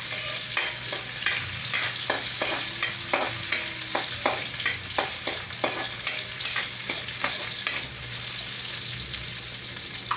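Garlic and onion sauté in a pan with a loud, dense sizzle, broken by repeated scraping strokes of a spatula as they are stirred.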